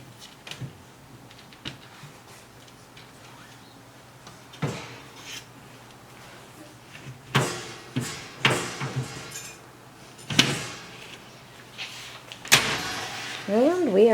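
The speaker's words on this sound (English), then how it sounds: "we will go ahead and reattach the door" Metal clunks and clanks of a cast-iron door being set back onto a Firebelly Razen wood cook stove after a gasket replacement, several sharp knocks spaced unevenly and growing louder near the end, close by with faint voices.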